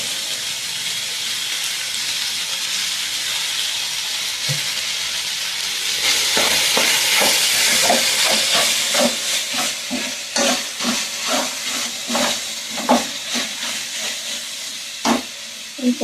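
Amaranth leaves fry in a pan with a loud, continuous steamy hiss and sizzle, joined partway through by a run of rhythmic stirring scrapes and soft knocks.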